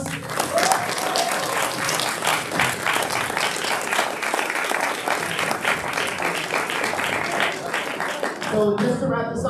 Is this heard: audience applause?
yes